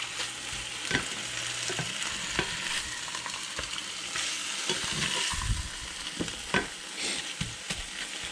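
Bison, egg and ham for a breakfast sandwich sizzling in a pan, a steady frying crackle with occasional stirring scrapes and clinks, fairly close and without talk.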